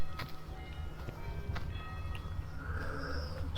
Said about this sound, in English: I've got the church bells ringing.